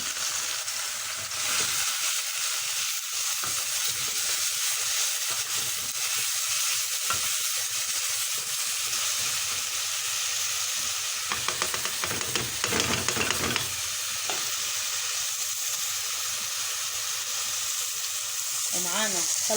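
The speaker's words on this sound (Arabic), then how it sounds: "حطينا حلة على النار، ضفنا فيها 3 معالق من الزيت، ومعانا 4 بصلات" Four onions frying in three spoons of oil with salt in a cooking pot, giving a steady, close hiss and sizzle throughout, with brief stirring clatter around the middle and no talk.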